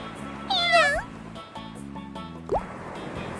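Cat meows twice, a longer wavering cry followed by a short rising chirp, close and clear over a low steady hum.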